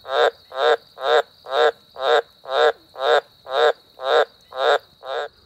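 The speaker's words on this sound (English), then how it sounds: "we've got our green tree frogs are all out at the moment" Green tree frogs call near a dam with water around it, producing a loud, steady series of eleven raspy croaks evenly spaced about half a second apart, each a buzzy pulse standing alone without talk.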